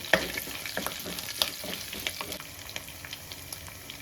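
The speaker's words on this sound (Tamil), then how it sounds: "இது நல்லா பொரிஞ்சு வருது." Red and green chillies frying in oil for Jalebi fish kulambu give a steady, close crackling sizzle with scattered sharp pops and occasional stirring scrapes, and no voices are present.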